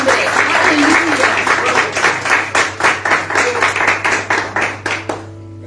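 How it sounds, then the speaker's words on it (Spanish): A church congregation gives loud, sustained applause for the Lord. The clapping settles into a steady rhythmic beat, a voice speaks underneath, and it ends abruptly in a low hum. "Dale un fuerte aplauso al Señor."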